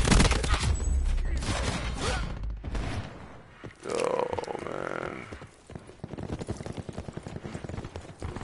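Rapid 9mm pistol shots in Call of Duty: Black Ops 4 ring out in dense bursts at the start and again toward the end, loud and close, mixed with game noise.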